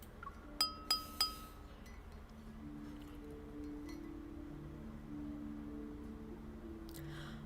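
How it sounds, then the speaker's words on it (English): Three quick crisp clinks of wine glasses ring out early at a banquet in the hold of a ship in the Love and Deepspace game, followed by a soft sustained musical background. "the crisp sound of clinking glasses captures everyone's attention"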